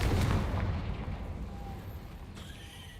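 Confringo fire spell explosion in the video game Hogwarts Legacy, a loud booming blast at the start that rumbles and fades over a few seconds, followed by fainter game effects.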